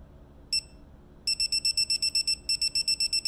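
A digital torque wrench being tightened toward 15 foot-pounds gives a single electronic beep, then a rapid train of short, evenly spaced beeps, loud and close with no talk.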